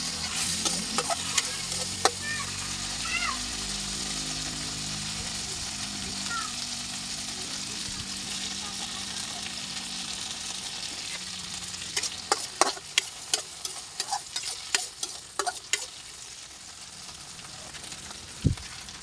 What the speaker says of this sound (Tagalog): Hintayin lang po natin kumulo konti yung ating pinaka sauce niya.